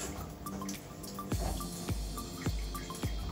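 Water runs from an open tap in a washroom at a busy Bangalore cafe, a steady splashing stream with repeated dripping plops over constant background noise.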